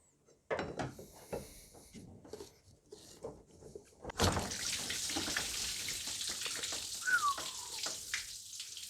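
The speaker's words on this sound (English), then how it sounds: "might expect coolant coming out from the radiator, because not all the coolant can drain" Coolant runs out of a detached radiator hose on a Mercedes W210 E-Class, a steady splashing trickle of liquid that starts abruptly after some handling clatter and continues close by to the end.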